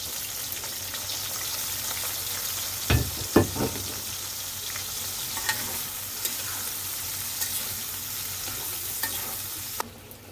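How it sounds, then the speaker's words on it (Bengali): Chopped onion sizzles steadily in hot oil in a kadai, with a few sharp clacks of a spatula stirring near the start and again near the end. "পেঁয়াজটা হালকা করে ভেজে নিব।"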